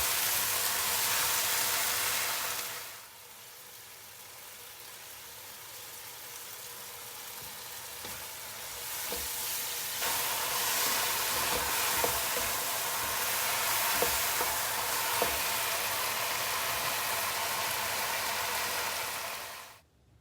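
Bak choy and dried shrimp stir-frying in a hot pan give a loud, steady, hissing sizzle that dips briefly near the start, then builds again and carries on without pause.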